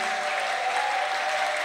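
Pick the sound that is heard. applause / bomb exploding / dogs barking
applause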